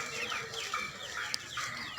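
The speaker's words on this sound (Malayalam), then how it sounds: "അടുത്ത വീട്ടിലെ ചാത്തനും നമ്മുടെ ചാത്തനും കൂടെ വഴക്കൂടുന്നതാണ്" Two roosters squabble at close range, giving agitated clucks and short squawks in uneven bursts, fairly quiet and with no talking.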